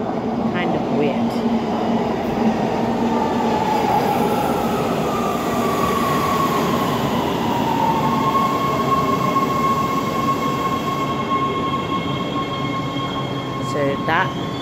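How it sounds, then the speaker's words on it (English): A train arrives at a station with a loud, continuous rumble of wheels on rails and a drawn-out squeal of the wheels, with voices faint beneath the noise. "I can't really explore because our train is coming literally this second"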